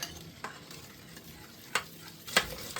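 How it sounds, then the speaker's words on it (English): A whisk works beaten eggs into melted dark chocolate for brownie batter, giving a soft wet stirring rustle with a few sharper clicks against the bowl, close and moderately quiet. "Now add the beaten eggs and whisk them in."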